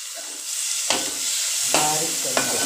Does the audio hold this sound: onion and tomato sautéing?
yes